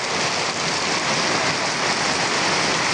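Heavy rain pours down steadily in a dense, loud, unbroken roar with no let-up, with no voices heard over it.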